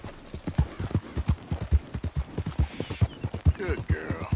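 A horse in a PS4 game trots with a regular, punchy clip-clop of hooves, close and rhythmic throughout, and a brief voice is heard partway through.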